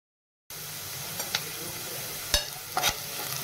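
Sliced onion fries in a pan until browned, a soft steady sizzle after a brief silence, with a few scraping stir strokes at intervals, close by and without talk.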